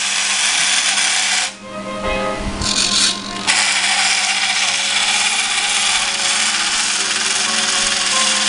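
A radio-controlled Conveyancer forklift truck, converted from a full-size model, runs its electric motor steadily as it backs up, a continuous broadband whir close by with a brief dip and surge early on.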